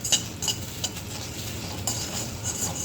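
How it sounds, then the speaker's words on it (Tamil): Drumstick leaves (murungai keerai) being stirred and sautéed in a pan, soft sizzling under repeated scrapes and clinks of a spoon against the metal, close and moderately quiet. "கீரையை வதக்குறோம்."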